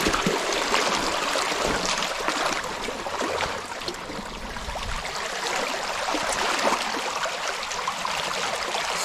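Water rushes and burbles steadily in a continuous broad hiss from a creek flowing close by, with no pauses.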